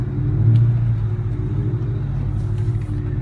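A Ford Mustang in zinc yellow with a stripe is heard from inside while driving, a loud, low, steady engine rumble that swells briefly early on, then holds an even drone.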